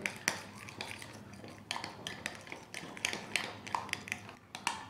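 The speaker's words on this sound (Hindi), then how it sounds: "अब हम इसे अच्छी तरह से मिक्स कर लेंगे।" A spoon clinks and scrapes against a bowl in quick, irregular taps while a potato snack mixture is mixed with milk. The sound is close but fairly quiet.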